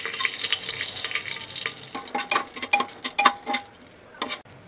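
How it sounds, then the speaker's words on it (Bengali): Whole spices, two bay leaves, pieces of garam masala and cardamom, fry in plenty of oil for khichuri, giving a soft sizzle broken by scattered crackling pops and light ticks. "আমি গরম মশলাটা ভালো করে ভেজে নিয়েছি"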